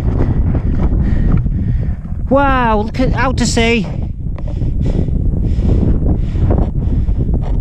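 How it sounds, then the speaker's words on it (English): Strong, constant wind buffets the microphone on an exposed mountain ridge in the Scottish Highlands, a loud low roar running throughout while someone speaks over it. "I'm gonna have to shout a bit because it's getting really windy."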